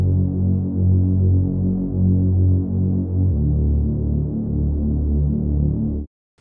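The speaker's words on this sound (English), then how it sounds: "for this pad sound, I just used a Reese bass preset that has a lot of voices of unison and two oscillators and then the filter" A thick Reese bass synth pad built from many detuned unison voices and two filtered oscillators throbs and hums steadily, changing note partway through, then cuts off abruptly at the end.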